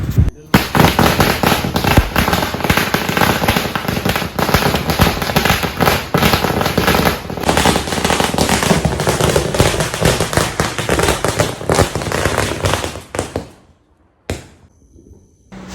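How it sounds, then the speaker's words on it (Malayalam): Vishu festival firecrackers in Kannur burst loudly in a dense, rapid string of crackling pops for several seconds, then stop abruptly, followed by a couple of scattered bangs. "രാവിലെ തന്നെ നമ്മൾ പിന്നെയും പടക്കം പൊട്ടിക്കുന്ന തിരക്കിലാണ്"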